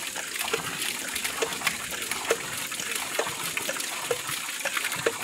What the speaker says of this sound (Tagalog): So ito na yung una, manual na pump.